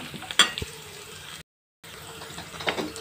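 Bitter gourd fry with garlic paste being stirred in a pan, the spatula scraping and clacking over a low sizzle, with a brief gap of silence mid-stir.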